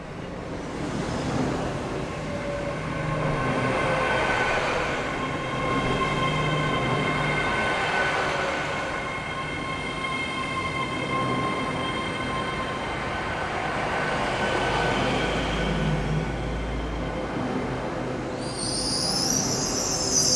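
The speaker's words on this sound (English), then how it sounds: "with the motive power turning out to be a Class 802." A Class 802 train runs through West Cornwall, heard as a steady, fairly loud mechanical hum with tonal whines that swell and fade, and a short high squeal near the end.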